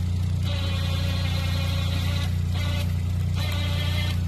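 A 2,500 pound winch on a tow truck pulls a car: a steady low engine drone runs throughout, while a higher whirring layer starts and stops in short bursts, near and fairly loud, with no talk.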